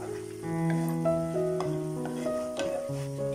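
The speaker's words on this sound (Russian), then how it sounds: "Открывши, помешиваем." Meat and onions fry in an uncovered pan while being stirred, a soft steady sizzle with light scrapes and clinks of the utensil against the pan, close by and alone.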